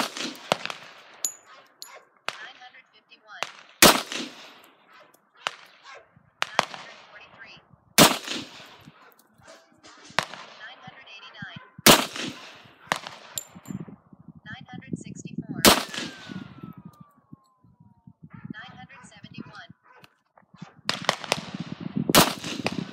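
Ten .45 ACP pistol rounds fired at an outdoor range, sharp loud cracks spaced a few seconds apart with ringing clangs and faint chatter between shots.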